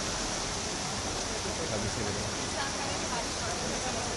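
Heavy rain pours down in Delhi, a dense, constant hiss of water, with a voice talking beneath the downpour.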